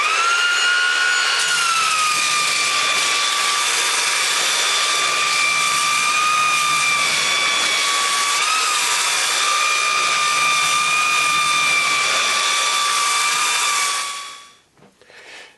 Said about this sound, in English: I'm just going to do some sanding on the top to make them